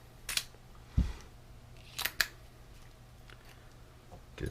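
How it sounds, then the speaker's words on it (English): A torque wrench set to 22 pounds tightening Torx screws during a SAKO install, giving a few sharp, close clicks and ticks spaced irregularly, separated by quiet pauses. "I'm going to start putting some screws in, readjust my torque wrench"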